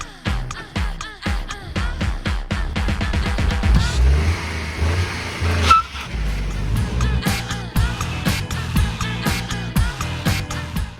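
A Nissan Juke with a 1-litre three-cylinder turbo engine accelerates hard from 0 to 60 on a straight road, heard from inside as the engine revs up loudly through several gear changes, each marked by a brief dip before it climbs again.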